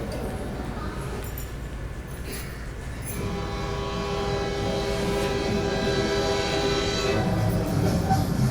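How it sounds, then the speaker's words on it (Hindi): A train pulling away at a station, a steady, loud rumble that rises and builds after a few seconds, with tonal squealing and a hum running through it and no voices. "आपके आती तो ट्रेन चलने लगी"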